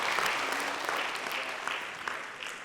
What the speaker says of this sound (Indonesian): Mungkin boleh tepuk tangan semuanya sahabat jiwa